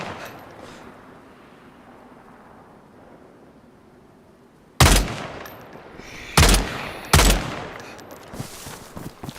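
Gunfire in the video game DayZ on the Livonia map: after several seconds of near silence, a loud close shot rings out, followed by two more sharp, heavy reports spaced about a second apart.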